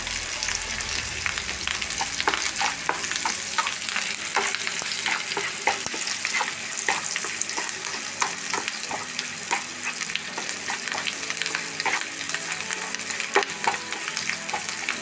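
Anchovies fry in a pan and are stirred, a steady dense sizzle running throughout with frequent scraping and clinking strokes of a utensil, close and fairly loud, with no voices.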